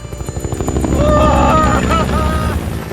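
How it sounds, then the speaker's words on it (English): A helicopter flying close, with a loud steady rotor thump and engine whine that swell slightly in the middle and continue throughout. "But then we decided to book you a chopper instead."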